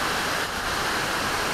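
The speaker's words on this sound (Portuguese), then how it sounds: "Aqui chegamos aqui na cascata da cachoeira." Waterfall cascade plunging down a rocky gorge between tall cliff walls, a steady broadband roar of rushing water, continuous and close with no voices.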